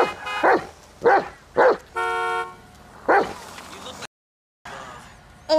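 A dog in GTA V barks at a train while blocking traffic, four loud, evenly spaced barks broken by a sustained horn toot, then a brief silence and faint traffic noise.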